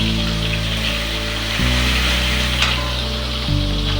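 Spice masala of chili powder and coriander powder sautéing in a pan for a stinging catfish and sweet potato curry, a steady close sizzle running under a low, droning tonal hum that shifts pitch twice.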